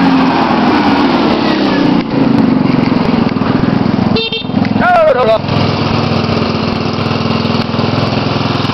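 A trike engine idles steadily and loudly after a bad-earth wiring fault was repaired, with a brief horn-like tonal blip midway and people talking over the running motor.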